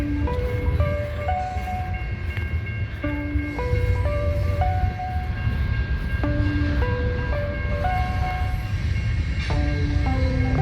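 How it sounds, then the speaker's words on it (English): A train pulling into a station: a loud, constant low rumble with a repeating pattern of stepped tonal notes sounding over it. "Let's go watch the trains come in."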